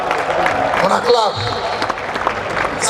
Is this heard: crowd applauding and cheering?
yes